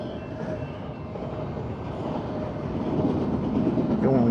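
A train passes nearby with a steady broadband rumble of rolling wagons and faint clickety-clack, growing slightly louder toward the end, with no talk over it.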